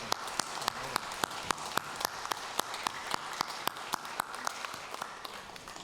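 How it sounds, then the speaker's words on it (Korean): Congregation clapping during a Sunday morning church service in Seoul, heard as a fairly faint, steady run of rhythmic claps, evenly spaced and sustained for several seconds. "우리 뜨겁게 박수합니다"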